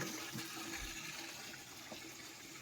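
Water sprays onto a bicycle during washing, making a steady, quiet hiss and splash that lasts the whole stretch with no voices.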